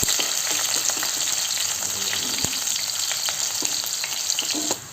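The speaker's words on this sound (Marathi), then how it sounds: "कांदा छान फ्राय करून घ्यायचा आहे." Onions frying in a pan for prawn dum biryani, a continuous bright sizzle with sharp crackles and pops spread throughout, loud and close, with occasional stirring clicks and no voices.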